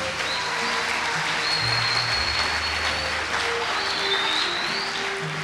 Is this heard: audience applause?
yes